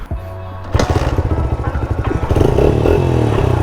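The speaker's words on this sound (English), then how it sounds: "Let's go rip around on the" A Honda XR80 dirt bike starts moving off, its small single-cylinder engine giving a close, rapid popping putter that builds into a steady, louder revving drone.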